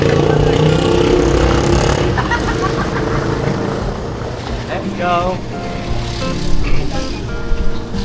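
A motorcycle engine idles and revs steadily close by for the whole stretch, loud and continuous, with voices talking over it.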